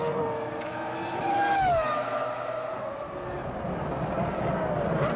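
Formula 1 race cars at the 2000 Malaysian Grand Prix sweep through a corner, a high engine whine dropping in pitch as one passes, with a steady roar of further cars behind and no talk.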